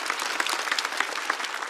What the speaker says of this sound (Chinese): 来，再次把掌声送给小齐。